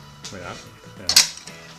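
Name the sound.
knife cutting straight down through an artichoke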